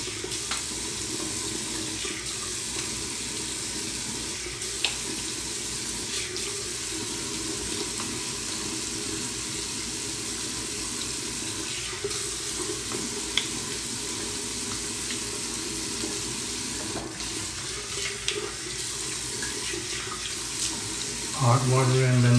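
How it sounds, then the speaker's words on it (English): Tap water running steadily into a sink while someone washes their face after a shave, a continuous hissing splash for the whole stretch with small clatters near the end. "Let me wash"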